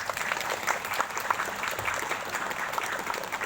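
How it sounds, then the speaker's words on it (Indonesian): Steady, moderately loud applause rises from an audience at a religious lecture gathering, a dense patter of many hands clapping continuously. "Tepuk tangan dulu dong."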